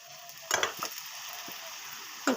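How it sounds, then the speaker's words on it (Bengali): A roti frying on a tawa in refined oil sizzles steadily, with a few sharper crackles and spatula scrapes, close and fairly soft. "রিফাইন তেল দিয়ে রুটিটাকে ভাজবো।"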